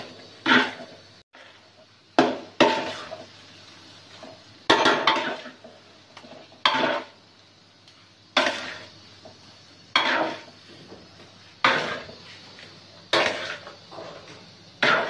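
Semolina roasting in a pan for halwa, stirred continuously, producing repeated clanking strikes of a spoon against metal every second or so with scraping between, close and without talk.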